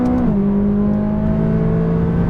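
A McLaren 570S sports car engine under throttle on a track, a loud, close, tonal engine note that dips in pitch early on and then holds a steady, strong drone.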